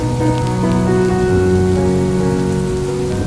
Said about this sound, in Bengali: বৃষ্টিও আরম্ভ হয়ে গেছে